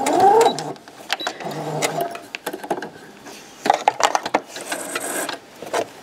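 A domestic sewing machine stitches bias binding onto a blouse, with short bursts of running needle clatter broken by pauses, small handling knocks and fabric movement, close and fairly loud.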